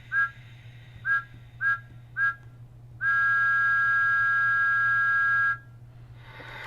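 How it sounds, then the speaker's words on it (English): A Bachmann G scale Percy toy train sounds Thomas's whistle: four short, evenly spaced toots, then one long sustained blast, heard close and clear over a faint steady hum. "So this is Percy with Thomas's whistle."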